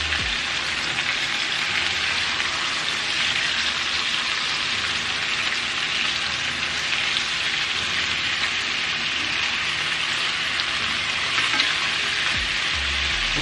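Chicken thighs for pineapple chicken sizzle steadily in a hot pan just after being flipped, a dense, even frying hiss with faint stirring scrapes, close and continuous with no talking.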